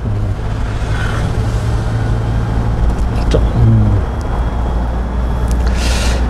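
A car engine hums steadily inside the cabin during a driving lesson, a low continuous drone that rises slightly as the driver accelerates, with faint road noise around it.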